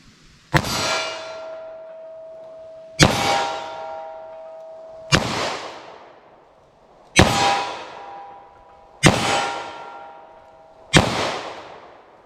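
Six evenly spaced, sharp metallic clangs ring out as .38 Special +P FBI-load handloads with Hornady bullets, fired from a 3-inch-barrel revolver, strike a steel target, each hit ringing briefly before the next.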